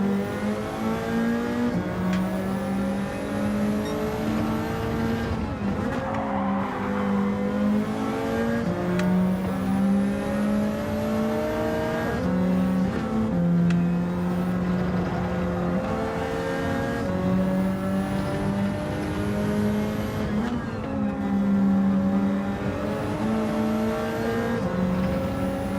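Race cars in Gran Turismo 7 during a lobby race with friends, engines revving loudly and continuously as they rise and fall through gear changes, with a rival car close by and brief tire noise, no talk.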